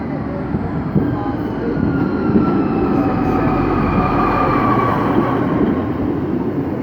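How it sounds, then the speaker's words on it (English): A Class 153 diesel train departs Shrewsbury station, rumbling and droning as it pulls away, a low engine roar with rising tonal whine, steady and fairly close. "The next train to depart is the 1358 Arriva Trains Wales 153 service to Llanelli via Swansea"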